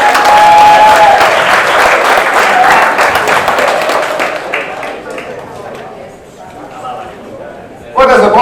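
An audience at a live talk claps loudly and densely in a burst that thins out and fades over several seconds, followed by a sudden louder sound at the end.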